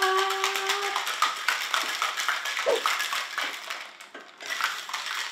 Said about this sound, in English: And then we're gonna mix it all up.